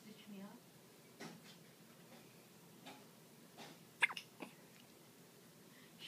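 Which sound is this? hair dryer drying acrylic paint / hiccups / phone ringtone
hiccups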